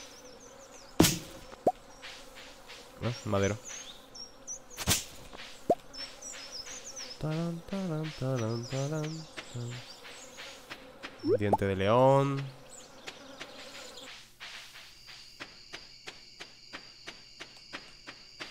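Summer flies and insects buzz and chirp in the farming game Stardew Valley, a run of fluttering, wavering calls with clicks and plops under brief bits of speech.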